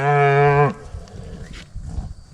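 A cow on a ranch pasture gives one loud, close moo lasting under a second, followed by quiet shuffling and faint rustling.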